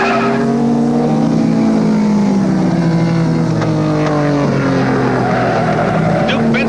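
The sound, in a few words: race cars including Ferrari on race course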